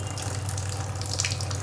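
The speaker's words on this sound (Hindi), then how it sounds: "मैंने इस टैप का पानी खोला है और ये आरओ सिस्टम चल रहा है।" Steady stream of water running from the opened tap of an Aquaguard Maxima RO+UV purifier, a continuous close hiss with a low electrical hum from the running RO system underneath.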